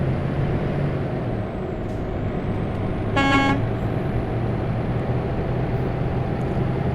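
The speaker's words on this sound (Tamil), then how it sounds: "வண்டி இது சைலன்சர் எப்படி இருக்குது பாருங்க" A heavy truck engine drones steadily with exhaust rumble in Euro Truck Simulator 2 while hauling an industrial condenser as a special transport load, loud and continuous, with a brief horn-like toot partway through.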